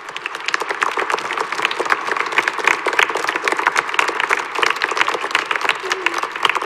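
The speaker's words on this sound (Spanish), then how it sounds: "si está por aquí, le damos un aplauso" A congregation at a Friday Mass claps for a priest's ordination anniversary, a brisk, even patter of many hands sustained throughout, moderately loud in a church.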